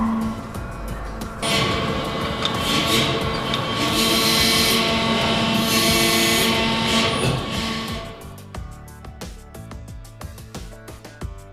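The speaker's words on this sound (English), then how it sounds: "So all we have to do now is we have to turn on our pump and bend the part." LVD press brake with its hydraulic pump running, bending a laser-cut part: a loud steady mechanical hum and hiss for several seconds, then easing into quieter clicks and clunks.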